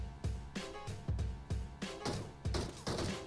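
Gunshots in the video game PUBG, about eight sharp, fairly quiet reports in a steady rhythm roughly every half second, each a brief thump with a bright crack.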